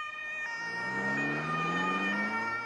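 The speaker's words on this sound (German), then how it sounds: "Oder Krankenwagen. Hören Sie mal." Ambulance siren passing by, its tones sliding lower in pitch as it goes, loud and continuous throughout with no talking.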